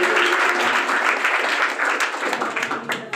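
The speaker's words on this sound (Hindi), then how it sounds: "ताली बजाइए।" An audience at a student award ceremony for matriculation pupils claps together in a dense burst of applause that thins toward the end, fairly loud and close.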